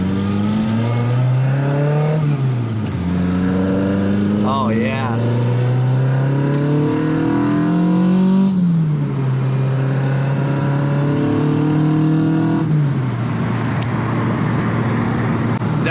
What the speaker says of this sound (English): let's get this thing on the road and see kind of what it sounds like